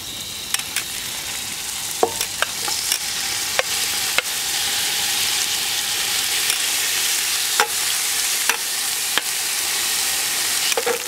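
Pieces of beef sear in a pot for a dark-beer goulash, giving a loud, constant sizzling hiss with occasional sharper crackles and pops as more meat goes in.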